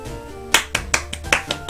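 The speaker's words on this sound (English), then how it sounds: "Thank you for whoever's clapping in my room." Sharp hand claps ring out indoors in a room, about six separate claps at uneven intervals, crisp and moderately loud over a low background hum.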